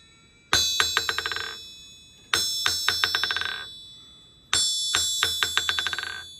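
A 190-pound custom homemade anvil is struck three times, each hit giving a piercing, bell-like metallic ring followed by a quick rattle of rebounding taps that slowly decays, with short pauses between strikes.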